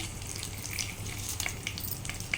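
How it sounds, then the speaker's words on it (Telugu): Whole spices dropped into hot oil for a mutton curry, crackling and sizzling continuously up close with scattered sharp little pops. "ఆయిల్ హీట్ అయింది మసాలాలు వేసుకుందాం"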